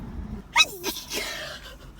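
A single sharp sneeze bursts out close and loud, trailing into a brief breathy tail and a quieter follow-up exhale, over faint background hum.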